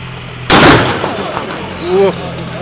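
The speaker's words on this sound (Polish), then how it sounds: "To są oczywiście tylko strzały na widok" One loud blank gunshot cracks nearby at a Soviet-era historical reenactment at Książ Castle and echoes away, followed shortly by a brief voice.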